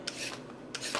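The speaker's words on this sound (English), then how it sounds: "So now we're going to get our carrots peeled" A peeler rasping down a raw carrot, two quick scraping strokes close by, rough and steady, with no voices.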